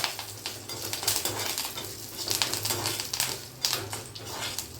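Curry leaves sizzling in hot tempering oil, with mustard seeds, cumin and urad dal, in a pan: a dense crackling hiss with sharp spitting pops in several bursts, close and fairly loud, with no talking.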